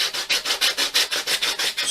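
Steady back-and-forth hand sanding to rough up RC plane build parts and remove soot, about a dozen even rhythmic rasping strokes, close and alone with no talk.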